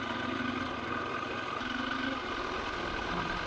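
A KTM 525 EXC dirt bike engine drones steadily while being ridden along Devil's Pinch Road, a continuous close motor hum with no pauses or revving peaks.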